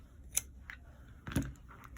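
A couple of quick, crisp snips of scissors cutting crochet yarn on a small 3D sunflower, close and quiet with short gaps between cuts.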